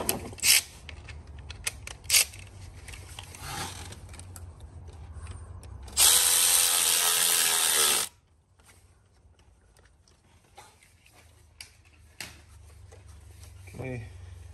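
A ratchet tool tightens bolts on the alternator of a 2.0T Audi VW engine, giving one loud, steady two-second mechanical burst midway, surrounded by quieter clicks and shop handling noise while someone talks.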